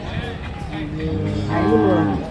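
A bull moos loudly and close by at the Ranebennur bull market, a long drawn-out low call that rises toward the end amid steady crowd background.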